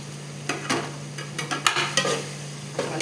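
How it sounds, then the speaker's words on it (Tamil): Tomatoes fry and get stirred in a pan for chicken biryani: a faint background sizzle broken by several quick scraping stir strokes, close and moderately loud. "தக்காளி போட்டு நல்லா வதக்கி விட்டுக்கலாம்"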